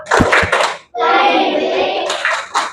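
Children in a classroom clap in a short patterned rhythm, a few sharp claps near and loud, then a sustained chorus of young voices, and a couple more claps at the end.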